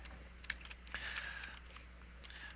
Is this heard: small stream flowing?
no